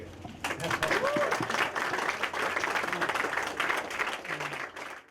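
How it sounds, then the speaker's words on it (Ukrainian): An outdoor crowd in Lviv applauds steadily at a street-renaming ceremony honoring Pope John Paul II, dense clapping that swells quickly, holds for several seconds and fades, with voices mixed in. "Оплески!"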